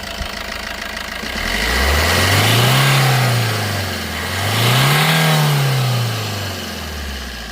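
A Maruti Ciaz diesel car engine revs up twice, pitch climbing and falling back each time, then settles to idle; loud and close.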